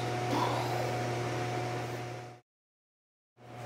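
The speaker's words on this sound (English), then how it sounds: "Well, it looks like the oven is fired up and ready to go." A large 90,000 BTU gas bakery oven roars steadily with a low hum, cuts out for about a second, then fires back up.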